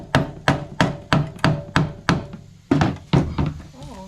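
A hammer strikes a screwdriver driven against oversized spot welds on a motorcycle frame, about ten sharp metallic knocks in a steady rhythm with a short pause partway through, loud and close, and a brief voice at the very end.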